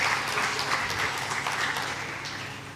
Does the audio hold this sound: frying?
no